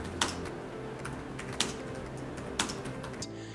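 Light, irregular keystrokes tapping on a Dell XPS 15 7590 laptop keyboard, close and fairly quiet, with a steady low background hum and no voices.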